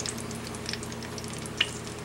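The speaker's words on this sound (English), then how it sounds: "Let's get this corn moved around a little bit in that oil." Skillet corn frying in oil gives a soft steady sizzle with a few faint crackles and one brief sharper pop, close but quiet, no voices.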